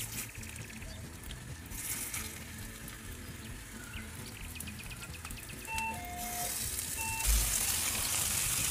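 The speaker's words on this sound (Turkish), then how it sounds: "Şimdi köftelerimi kızartacağım" Steady sizzling of İnegöl meatballs frying in a hot pan with a little oil, a continuous crackle with a few faint electronic beeps partway through.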